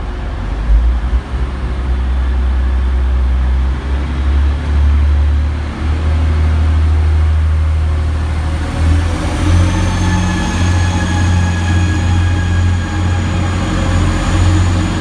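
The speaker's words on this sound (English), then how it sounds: "Next train out to depart is 185150, working the 1600 Transpennine Express service through to Scarborough." A Class 185 TransPennine Express diesel unit departs Manchester Victoria, a loud steady low engine rumble building as it pulls away, with rising tonal whine and rail noise over the platform ambience.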